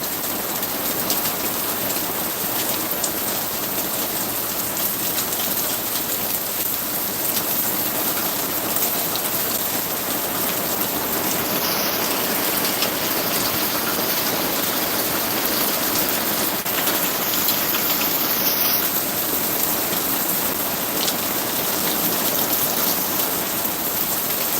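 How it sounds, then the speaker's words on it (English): Steady rain pouring down in a garden, falling continuously on surfaces around an umbrella shelter with a dense, even hiss and no talking. "I just love to listen to the sound of the rain."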